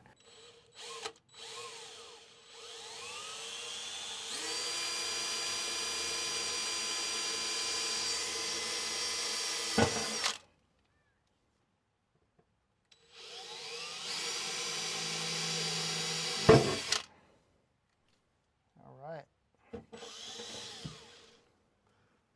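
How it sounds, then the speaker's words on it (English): A power drill with a long bit whirs in two long bursts, grinding through a Ford Transit van's wood flooring with pauses and small clicks between, fairly close and loud. "I have a longer drill bit where I'm going to go all the way through"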